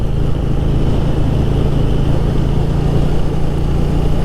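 A KTM 890 Duke motorcycle, 2021 model, rides along with a steady, loud engine drone and wind rush that hold at an even level throughout, no voices over it.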